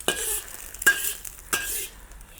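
Egg and vegetables stirred in a sizzling wok, three distinct scraping strokes of a utensil against the pan over steady frying hiss.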